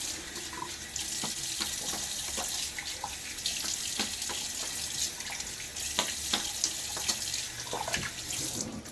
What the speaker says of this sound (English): I'm rinsing in cold water, or as cool as my tap water can get it